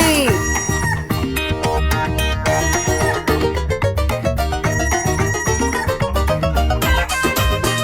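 Rooster crowing inside a Tamil kids' cartoon song, the crow rising and falling over loud, bouncy music with singing throughout.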